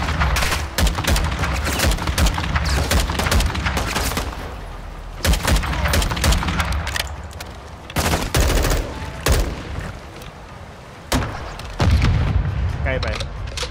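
Dense, loud gunfire in Call of Duty Modern Warfare II, with bursts of automatic fire, pistol shots and booming explosions in rapid overlapping volleys across the whole stretch, under excited talk.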